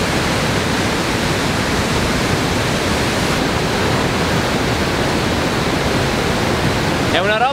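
The massive roar of Iguazu Falls at the Devil's Throat, a huge cascade of plunging water making a loud, dense, unbroken rushing noise that fills everything, with a voice faintly buried under it.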